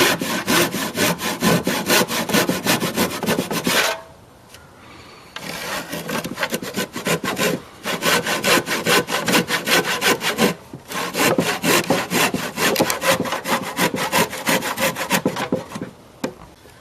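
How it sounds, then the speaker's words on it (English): A handsaw cuts the corner out of a wooden stair stringer in loud, rhythmic back-and-forth strokes close by, pausing twice briefly before resuming the steady rasping cut. "you want to cut the corner here out either but with a handsaw"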